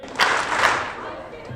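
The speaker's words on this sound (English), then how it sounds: "All right, give me 2 claps." A seated audience at a charity gala claps on cue, producing a couple of loud, near-unison hand claps that blur into a short burst with a lingering room tail.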